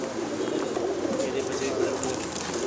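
Purebred pigeons coo in a pigeon shop, a steady low murmur of several birds throughout, mixed with background chatter and shop noise.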